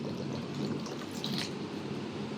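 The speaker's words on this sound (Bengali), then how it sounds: "একদম ঠান্ডা জল এই ঢেলে দিলাম" Ice-cold water is poured over cooked rice for panta bhaat, a continuous close splashing, gurgling pour lasting the whole moment.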